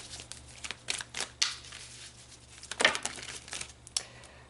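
Tarot cards shuffled and pulled from a deck, a run of crisp papery slaps and flicks at close range, some brief and some a little longer, with no talking.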